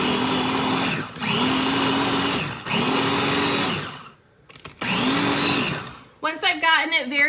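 A food processor pulses ingredients in loud, close motor bursts, about four runs of a second or so each with short gaps. A brief voice follows at the end.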